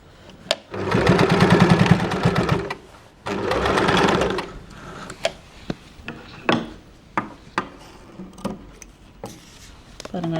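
A sewing machine stitches fabric in two loud, close bursts of rapid whirring, followed by scattered clicks and knocks as the fabric is handled.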